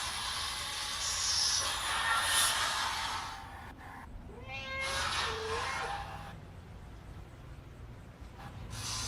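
A cat in the Into The Pit video game gives a couple of short meows in the middle, over a hissing, rushing game ambience with no talk.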